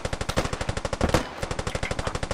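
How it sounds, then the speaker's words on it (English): Enemy AK rifle fire in the tactical shooter Squad rattles out in rapid, steady automatic bursts, loud and close, with a brief gap midway before the fire resumes. "That's enemy AK."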